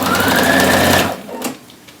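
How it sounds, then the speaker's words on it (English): A sewing machine stitches steadily down the front of a shirt, a loud continuous mechanical whir for about a second before it stops, leaving a few faint clicks and handling noises. "Pivot at the lapel and sew down"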